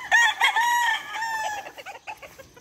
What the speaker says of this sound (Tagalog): So, pakikita ko yung sisiw sa inyo dito.